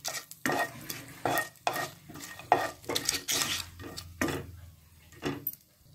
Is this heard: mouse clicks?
no